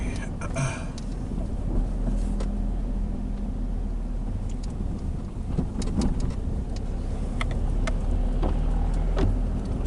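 A Nissan Primera with a 1.6 litre GA16E engine of 102 PS drives along, its steady low engine drone and road rumble heard from inside the cabin, with scattered small rattles and clicks over the hum.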